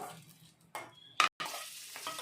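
Raisins fry briefly in ghee in a pan, heard as quiet crackling sizzle broken by a couple of louder stirring scrapes and a short gap, close and without talk.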